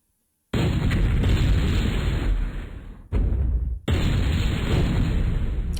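A graviton gun fires in the game MechQuest as a loud, sustained roaring blast. It cuts out briefly twice and then resumes, filling the clip at a steady, heavy level.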